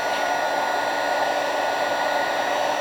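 Heat tool blowing steadily while melting embossing powder on a stamped card, a constant close whirring hiss with no pauses.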